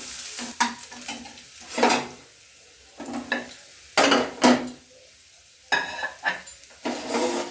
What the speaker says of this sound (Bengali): আর 4 কোয়া রসুন নিয়েছি, একটু ভেজে নেব।